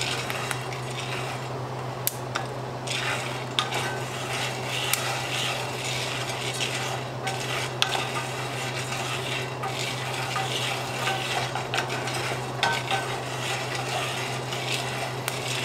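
Coffee beans roasting and being stirred in a cast iron skillet on a burner, with a steady sizzling hiss and irregular scraping and clinking of the utensil against the pan, close and continuous with no talking.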